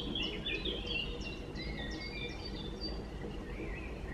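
Birds sing outdoors on a balcony with a small fountain nearby, several bright chirping phrases repeating over a soft, steady background wash, fairly faint and with no voices.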